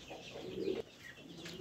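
Chickens of the Brahma and Fayoumi breeds, including large American Light Brahma hens, give a short, soft, low clucking burst at close range against a quiet background.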